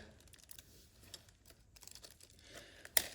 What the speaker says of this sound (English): we'll open our little packet up, grab out the bolts, take off the sticky tape